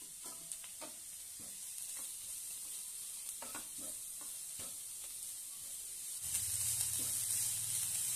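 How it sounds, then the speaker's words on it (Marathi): Fresh fenugreek leaves sauté in hot oil in a pan, a steady sizzle with scattered stirring scrapes and a louder, fuller frying surge near the end. "आता त्यामध्ये ही मेथी परतून घेऊया।"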